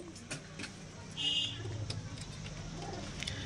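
A soft, low female pigeon coo rises briefly amid faint outdoor noise, with a short high chirp overhead.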